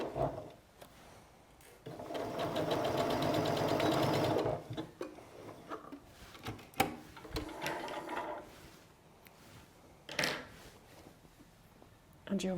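A sewing machine stitches a seam for a concealed zip, running in a steady close whirring burst of a few seconds, with short start-stop stitches and handling clicks around it.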